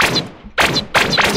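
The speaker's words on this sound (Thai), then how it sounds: "ข้างหน้ามีเสียงปืน" Automatic gunfire in a shooter video game, fired in three loud sharp bursts with short gaps between them and no talking.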